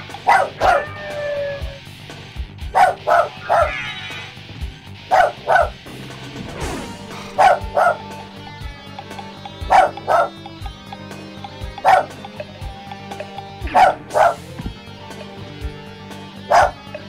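Repeated dog barks and yips from Castlevania: Symphony of the Night, sounding in short bursts at steady intervals over game music, with no talk.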